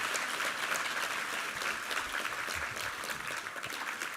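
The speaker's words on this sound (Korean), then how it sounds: "우리 하나님께 감사와 영광의 박수 올려드리겠습니다" Congregation applause at a Sunday service in a Korean church, a steady, even wash of many hands clapping throughout, moderately distant and unbroken.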